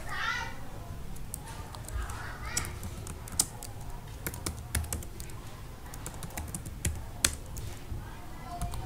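Password keys tapped on a computer keyboard, light irregular clicks at close range over a soft room background, no talk.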